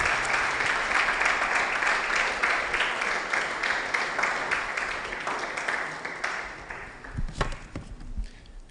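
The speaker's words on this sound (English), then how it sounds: "with a resounding clap, shall we welcome Deborah D. Kanubala" Audience applause at a forum on AI and human intelligence, welcoming a speaker to the stage. Sustained, dense clapping from a crowd fills the room and fades toward the end, with a few louder scattered claps closing it out.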